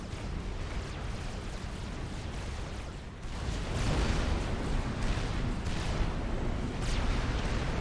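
Dense artillery shelling from a Supreme Commander battle forms a continuous rumbling roar of overlapping distant blasts that swells louder partway through, with no voices.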